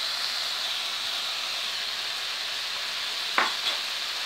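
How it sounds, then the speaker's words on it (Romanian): Minced beef with onion and carrot frying in a pan, a steady close sizzling hiss throughout with a couple of brief scrapes of stirring near the end, no talk. "Lăsăm să se facă carnea. Cu ceapa și cu morcovul."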